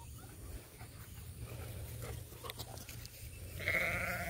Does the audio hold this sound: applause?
no